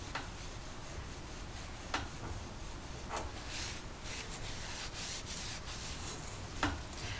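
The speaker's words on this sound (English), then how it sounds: "All I'm going to do is take a tissue and kind of rub that." A tissue rubs around the edges of a decorative paper basket in soft, steady scuffing strokes, with a few faint taps and ticks, close and quiet, no talking.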